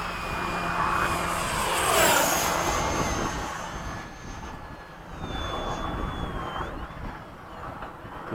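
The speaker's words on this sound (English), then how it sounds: "I'm going to do a low pass before you go up." An F-5 jet makes a low pass over an airfield with a loud rushing roar that swells, peaks and fades, then rises again with a whining engine tone. No talk.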